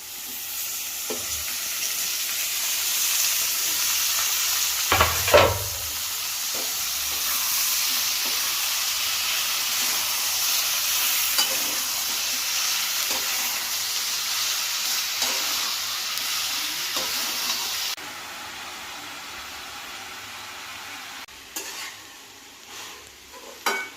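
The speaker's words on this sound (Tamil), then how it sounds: "இப்போ வெங்காயம் வணங்கிடுச்சு, தக்காளியும் அதுக்குள்ளேயே ஓட்டு வணக்கிக்கலாம்." Onions and tomatoes sautéing in a pan for a fish curry, a steady bright sizzle with occasional stirring scrapes and one sharp clatter, continuous and close with no voices.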